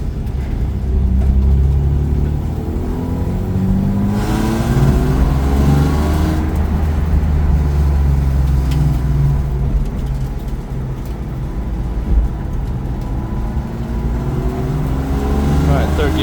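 A BMW E36 coupe that has sat undriven for a while, fitted with an E46 transmission, idles and runs in a garage with a steady low rumbling drone, close and loud, while people talk over it.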